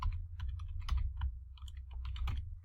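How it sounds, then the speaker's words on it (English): Keys clatter on a computer keyboard as a macro name is typed, a quick irregular run of close, crisp clicks with brief pauses. "all we're going to do is type a simple Hello World message"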